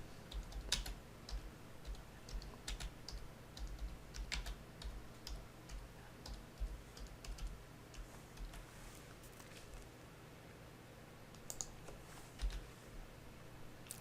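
Typing on a computer keyboard while entering a short line of cover-page notes, a quiet run of uneven clicking keystrokes with brief pauses, close up over a steady low hum.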